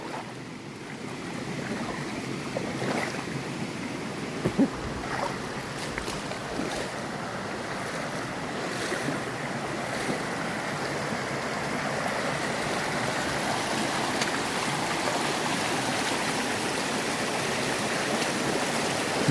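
Mountain stream water rushing steadily around legs of someone standing knee deep on Mt. Baldy, a continuous close broadband wash with some wind buffeting on the microphone.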